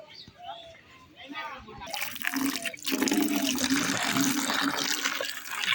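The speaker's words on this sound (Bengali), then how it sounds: "বালতিতে জল ভরে নিই, তারপরে উঠানটাতে জলগুলো ছিটিয়ে দেবো" Water from a tap running into a bucket in a village courtyard, a steady loud gushing splash that starts abruptly after a short stretch of talking and continues unbroken.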